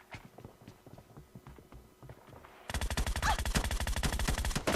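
Rapid automatic gunfire in the shooter game PUBG Mobile, scattered shots at first then a loud, sustained burst of fast repeated shots in the second half, heard without talk.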